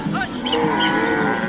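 Dinka cattle herd in a South Sudan cattle camp lowing together, several overlapping moos close by in a steady, full chorus with no talk.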